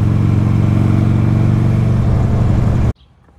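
Buell XB motorcycle V-twin idling low at around 800 to 900 RPM with a lumpy cam, a loud, close, uneven chugging rumble that cuts off abruptly near the end.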